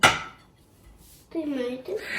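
Freshly washed dishes clink and knock as they are stacked together, a sharp clatter at the start and again near the end, with people talking over the later part.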